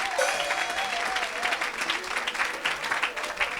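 A church congregation breaks into sustained applause, dense clapping that stays fairly steady and slightly distant throughout, with a brief tonal voice early on.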